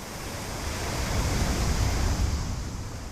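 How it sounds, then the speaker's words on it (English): Ocean waves surging against a rocky shore where the tide ebbs and flows, a dense, steady wash of surf that swells slightly in the middle, with no voices. "Where land meets sea, the repeated ebb and flow of tides carves solid rock"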